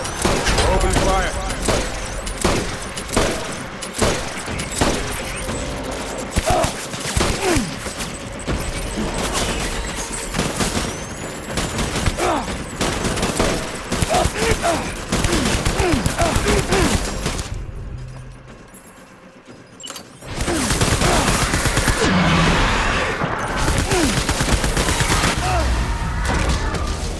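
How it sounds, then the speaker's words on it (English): Sustained gunfire in Death Stranding, dense rapid volleys with booms running through most of the stretch, a brief lull near the end before the shooting resumes, with voices speaking over it. "Open fire."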